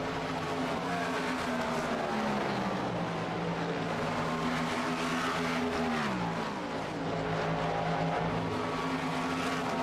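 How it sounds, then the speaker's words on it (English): GTP prototype race cars in a sim-racing event at Le Mans drone past with a loud, sustained engine whine whose pitch drops and rises again across the stretch. "Another Frog Leap Juice racing car there."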